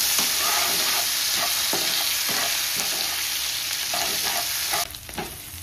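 Grated ginger fries in a pan with salt added, a steady loud sizzle broken by regular scraping stirs, the hiss easing briefly near the end.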